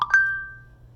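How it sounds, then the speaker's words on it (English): A phone notification gives two quick bright dings, the second ringing out as a clear tone that fades over most of a second in a quiet room. "my phone is still dinging"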